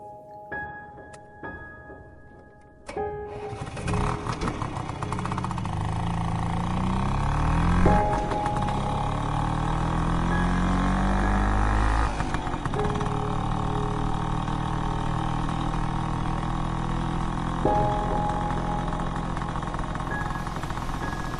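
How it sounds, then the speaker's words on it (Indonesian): A Vespa scooter's engine drones steadily while riding along a quiet road in Bandung at night, a loud continuous motor note with small pitch shifts as it changes speed, preceded by a few seconds of quieter sounds before the engine takes over. "Kulajukan motor Vespaku di jalanan Bandung yang sudah mulai sepi."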